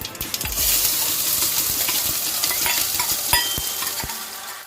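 Finely chopped garlic, hot green chili and an inch of ginger hit hot oil with a loud sizzle, then frying crackles on while a spoon stirs and scrapes the pan, close and busy, with no voices.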